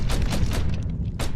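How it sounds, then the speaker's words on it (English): Rapid bursts of gunfire from the video game Mafia, a dense string of loud, close shots with boomy low thumps and short gaps. "Let's shoot some shit up."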